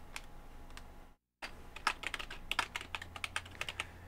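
Fast, irregular clicking of keys typed on a computer keyboard, close and fairly quiet, with a brief silent gap early on before the typing resumes in quick bursts.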